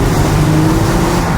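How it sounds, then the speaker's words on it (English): Mercedes W209 CLK 350 V6 exhaust rumbling loudly and steadily nearby, a smooth, even engine drone with no talking. "Smooth exhaust though, right, Wall?"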